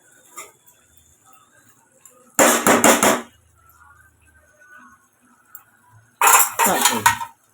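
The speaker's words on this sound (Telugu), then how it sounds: "చికెన్ ఫ్రై వేసిన తర్వాత ఇలా కలబెట్టాలి ఇలా" Two bursts of a metal spatula scraping and clattering against a pan while stirring chicken fry, each lasting about a second, loud and close, separated by near silence.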